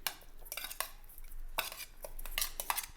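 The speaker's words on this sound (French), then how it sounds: "Ensuite, mélanger le tout." Ingredients being stirred together in a bowl with a spoon, a quiet series of clinking, scraping strokes that come in irregular bursts, with no talking.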